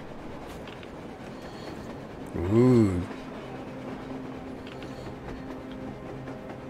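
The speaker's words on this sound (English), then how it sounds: "A train! A damn train on the surface!" A train on the surface in the game Metro Exodus sounds one loud, brief horn-like blast that swells and fades against a steady low ambient rumble, with a short voice exclamation nearby.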